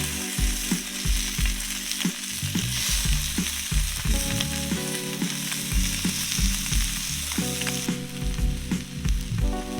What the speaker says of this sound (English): The only thing left to do is to blacken them in this hot skillet.